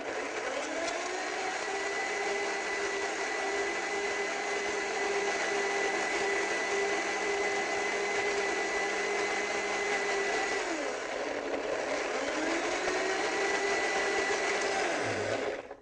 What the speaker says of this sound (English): This is my favorite blender in the world. It's the Blendtec.